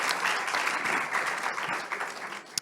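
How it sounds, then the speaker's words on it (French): Audience applause at a round-table public debate on cannabis legalisation in Bègles, a steady dense clapping that stays fairly loud and close and then tapers off near the end. "Oui, il faut l'applaudir."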